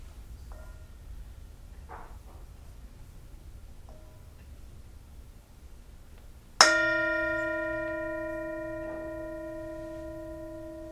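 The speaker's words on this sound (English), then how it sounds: "I'm going to do the bell" A single bell is struck once to open a reading in a sacred service, its clear tone ringing out and decaying slowly over several seconds after a few quiet rustles.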